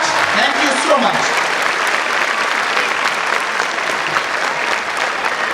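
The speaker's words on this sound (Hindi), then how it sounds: "मैं चाहूंगा एक बार हमारे पेरेंट्स के लिए बहुत जोर से ताली बजाएं।" A school silver jubilee audience applauding the parents, a loud dense wash of clapping that holds steady throughout.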